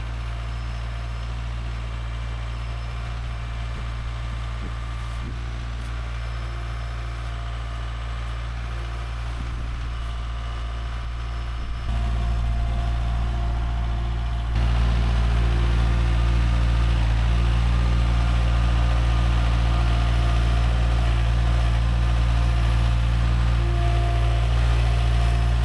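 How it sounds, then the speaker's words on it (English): A small tractor's engine runs steadily while hauling bags in a backyard, a loud continuous low drone that steps up in intensity twice as it revs higher, close throughout with no speech. "I find myself using this tractor more and more every day"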